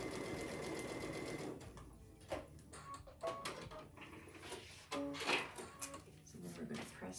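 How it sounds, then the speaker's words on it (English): A sewing machine stitches along a marked line on a quilt panel, its steady mechanical whir running at first, then breaking into short bursts and stops, fairly close and moderately loud. "we're going to go sew on line number 1"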